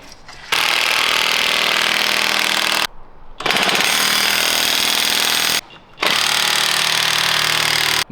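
A DeWalt power tool works loose a stubborn, mud-caked bolt on a Land Rover Defender 110, roaring close and loud in three long hammering bursts separated by short pauses.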